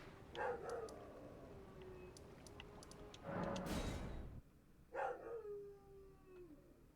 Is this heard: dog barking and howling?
yes